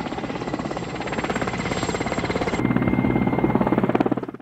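A helicopter flies over the Vostochny cosmodrome construction site, its rotor a steady, loud chopping drone close overhead that fades out at the end, with no talking.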